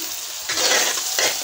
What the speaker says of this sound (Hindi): इसमें साथ साथ हम चमचा चलाते रहेंगे। इसमें हम हाथ नहीं रोकेंगे, ताकि हमारी प्याज सब तरफ से अच्छे से ब्राउन हो।